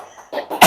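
Two or three short coughs from one person, close and dry, ending in a louder, harsher burst.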